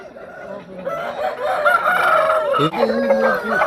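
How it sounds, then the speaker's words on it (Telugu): A rooster crows loudly and close by, a long drawn-out call with other fowl clucking around it and some voices in the background, at a country chicken market in Piler. "అక్కడ ఒక కోడి ఉంది చూడండి"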